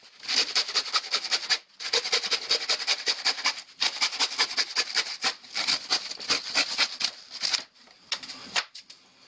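Rapid back-and-forth rasping of a handsaw cutting through a wood panel, in steady bursts broken by brief pauses, close and fairly loud.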